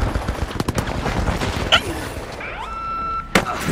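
Automated turrets in the shooter game THE FINALS fire in dense, rattling bursts, with sharp impacts and a ringing electronic tone partway through, loud and close in a chaotic firefight.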